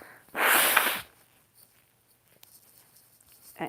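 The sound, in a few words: sniffling and nose blowing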